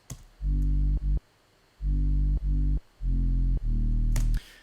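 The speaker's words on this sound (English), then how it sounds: "really all that is a buzzy sawtooth wave with a little bit of an EQ cut on it" Buzzy sawtooth bass synth plays alone in three short phrases of sustained, harmonically rich low notes, separated by brief pauses.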